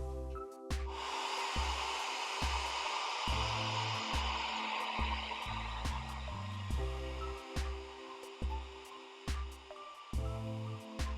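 A hair dryer blows steadily to dry a wet layer of a watercolor winter landscape painting, a continuous airy whoosh. Low rhythmic thumps recur throughout beneath it.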